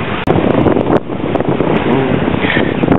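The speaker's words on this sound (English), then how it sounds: "The wind is not real consistent." Strong wind roars across the microphone while sailing a sailboat on open water, a loud, steady gusting rush with waves and hull noise beneath it, continuous throughout.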